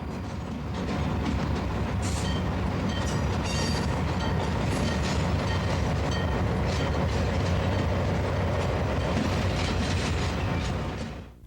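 A Long Island diesel passenger train rolls past with a steady rumble and rhythmic clickety-clack of wheels on rail joints, loud and close throughout, with no one talking.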